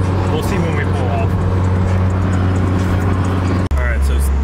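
Nissan Silvia S15, reportedly smoking, pulling away as it drives off: a steady low engine drone with a broad hum of road noise, close and loud, cutting abruptly near the end, with some talk underneath.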